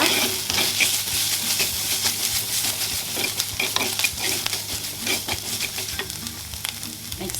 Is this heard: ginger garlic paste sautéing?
yes